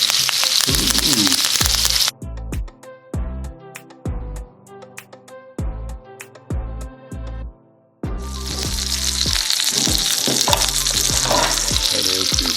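Salmon steak frying in butter with thyme, loud dense sizzling that drops away for several seconds into separate crackles and pops, then returns to a full steady sizzle.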